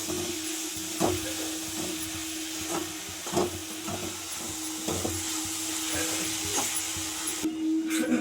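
Sliced onions frying in hot oil in a pan, turning brown, with a steady soft sizzle and a low hum underneath, broken by regular light clacks of stirring.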